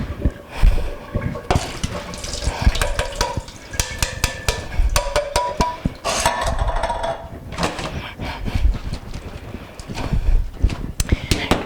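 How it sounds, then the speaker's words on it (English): Canned corn being drained in a kitchen strainer, with splashing, trickling liquid and clattering metal in irregular bursts close by, over a busy background. "just drain our corn here."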